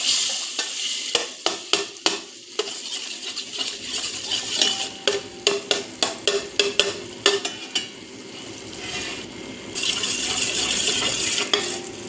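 Butter sizzles and melts in a hot pan for white sauce pasta while a metal spoon stirs and scrapes, giving steady frying hiss with rapid, irregular clinks and taps up close and no talking.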